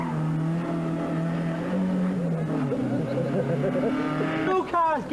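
Rally cars racing past at the 1982 Circuit of Munster Rally, including a 1275 GT, a loud engine drone sweeping by with revving and a sharp rising whine near the end, with a commentator talking over it.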